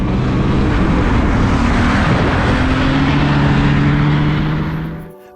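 An Audi A8L W12 D3 driving, its engine droning loud and steady under strong road and wind roar with a rising tone, before the noise fades away near the end.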